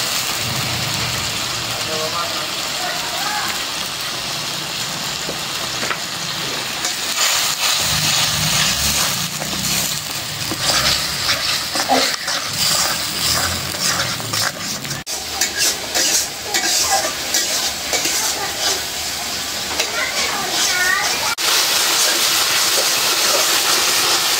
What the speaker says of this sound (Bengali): আমি ভালো করে ভেজে নিলাম, কষায় নিলাম।